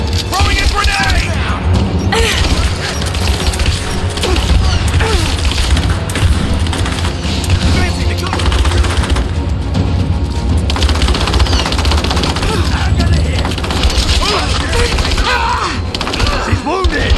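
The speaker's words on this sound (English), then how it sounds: "I'm taking fire! I'm taking fire! Throwing a grenade!" Gunfire and a grenade explosion in a Tomb Raider firefight, with continuous heavy shooting, booming blasts and combat clatter all the way through, and soldiers shouting over it.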